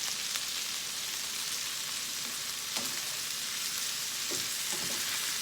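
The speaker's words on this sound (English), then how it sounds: "I'm just going to fry these up." Green beans stir-frying in a hot skillet give a steady, dense sizzle and crackle throughout, with occasional louder pops and spatters as they are tossed, and no talking.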